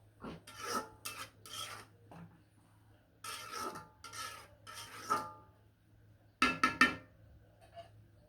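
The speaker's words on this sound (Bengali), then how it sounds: "পালং শাকটা এখন লাড়াচাড়া দিয়ে দিব" Spinach is stirred in a cooking pan with a metal utensil, giving short separated bursts of scraping and rasping against the pan between quiet pauses, over a faint low hum.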